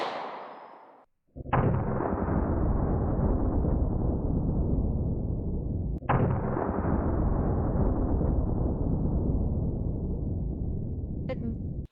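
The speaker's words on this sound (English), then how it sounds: "it's time to step it up to the old Glock 50 cal. This is my Gun Crafter Industries 50 GI, and I have some 275 grain 50 GI rounds" A Gun Crafter Industries .50 GI Glock pistol firing 275-grain rounds outdoors: two loud, close blasts a few seconds apart, each with a long booming decay that fills the gap.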